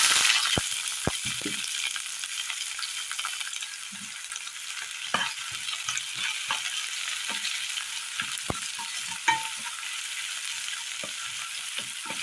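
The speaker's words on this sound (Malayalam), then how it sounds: "പൊട്ടിയ കടുകിലേക്ക് അരിഞ്ഞു വെച്ചിരിക്കുന്ന ചെറിയുള്ളി ചേർത്ത് കൊടുക്കാം" Chopped shallots sizzle with popped mustard seeds in hot oil, a steady crackling fry with scattered sharp pops and light stirring clicks throughout, close and alone.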